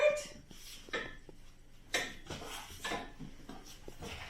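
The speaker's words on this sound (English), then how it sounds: "And we're gonna stir it" A utensil scrapes and clinks against a frying pan holding avocado oil, a few irregular strokes with light knocks, fairly close and moderately quiet, with no talking.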